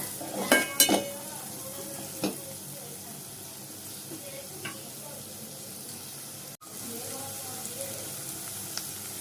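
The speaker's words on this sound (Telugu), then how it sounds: "పచ్చిమిర్చి పేస్ట్ చేసుకున్నాను కాబట్టి వీటిని అన్నిటిని కూడా ఫ్రై చేసుకుందాము." Green chili paste and half a spoon of chili powder frying for a mushroom fry make a low, steady sizzle, with a few quick utensil clinks near the start and a sharp click later.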